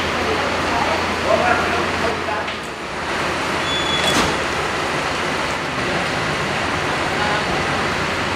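A Mercedes-Benz OH1526 coach bus with a Jet Bus 2 body from Karoseri Ade Putra, from the Dieng Indah Putra fleet, passes by as a loud, steady roar of engine and road noise that fills the whole stretch.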